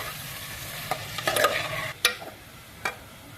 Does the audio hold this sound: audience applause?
no